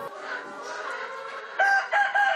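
Chickens on a free-range egg farm cluck and call nearby, a steady mix of hen vocalizations with a few sharper, louder calls near the end, no talking.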